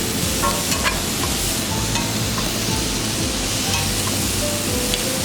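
Breakfast potatoes with green onions and cheese are stirred in a hot non-stick pan, a steady close sizzle with soft scraping that runs throughout, no talking.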